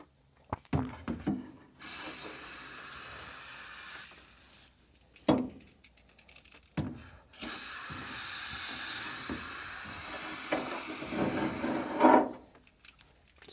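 Foaming air conditioner coil cleaner fizzing and hissing, with several bursts of loud spray hiss and quieter crackling fizz between them, close and with no talking.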